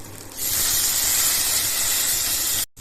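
Tomatoes hit a hot cooker and a loud, steady sizzle rises abruptly, holding strong for about two seconds before cutting off sharply.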